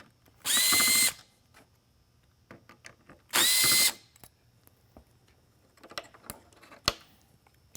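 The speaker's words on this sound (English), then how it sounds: "Disconnect the harness here, disconnect the harness here, 2 screws" A power drill removes the screws from a Whelen Responder Linear Super-LED Mini lightbar, giving two short, whining bursts about three seconds apart, followed by quieter clicks and light handling of parts and tools in a quiet room.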